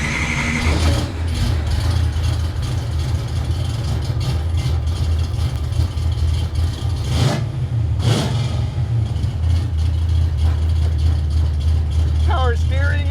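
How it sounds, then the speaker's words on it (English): A Ford Mustang project car, nicknamed Large Marge, runs at a steady, rumbling idle right after starting. A couple of sharp mechanical clanks cut through the low drone midway. "engine start."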